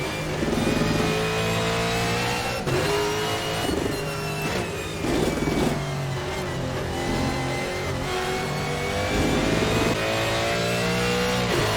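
Ford GT1 race car in a racing video game at Mid-Ohio, its engine revving steadily and shifting through gears over the whole stretch, loud and continuous with rising and falling pitch sweeps, no talk over it.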